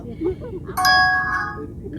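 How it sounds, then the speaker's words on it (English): A phone notification chime rings out as a bright, sustained tonal ding with clear ringing overtones, rising above low background murmur and noise before fading over about a second. "My phone just went off."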